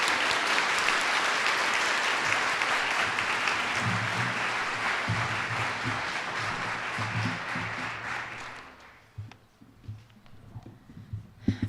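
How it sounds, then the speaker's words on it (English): Sustained applause fills the room at the 2017 Aspirations awards ceremony for Minnesota state winners, loud and continuous before tapering into a few scattered claps. "let's give one final round of applause to all of our Minnesota State winners."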